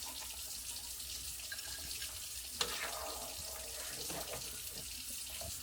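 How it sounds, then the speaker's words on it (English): Water runs from a tap into a cooking pot of smothered neck bones, a steady, faint splashing stream with a brief clink partway through. "I'm going to put a little more water."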